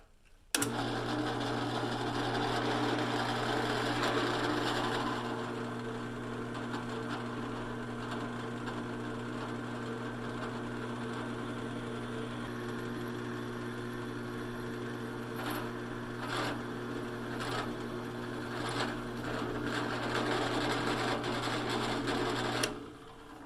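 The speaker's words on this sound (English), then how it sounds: "I'm going to be drilling 3 holes in the top plate that the bolts are going to go through" A drill press bores holes through a steel top plate for mounting a post vise, a loud steady motor hum with a grinding whine running continuously and close, with a few sharp ticks late in the run.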